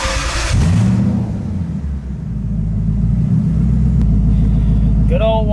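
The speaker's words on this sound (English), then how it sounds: "believe it or not, this car does actually start" A Lexus LS400 with a 1UZ V8 that sat unused for a year cranks and fires, then settles into a steady, loud, deep idle rumble close by, with a brief chirp near the end.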